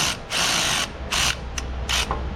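A hand ratchet runs a bolt down while repairing a damaged Toyota FJ Cruiser: four short bursts of rapid, loud clicking, close up, with brief pauses between strokes.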